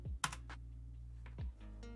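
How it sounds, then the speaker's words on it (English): Keys on a computer keyboard are tapped to enter numbers: a few sharp, close clicks in an irregular rhythm with short pauses between them, set over a quiet steady hum. "I was just typing the number in wrong"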